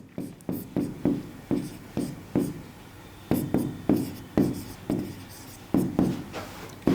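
Chalk or a marker writes a Nernst equation on a board in a chemistry class, with rapid scratchy strokes coming in rhythmic clusters and short pauses between them and no talking.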